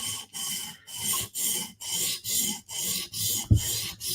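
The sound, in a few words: sharpening a knife with a 150 grit stone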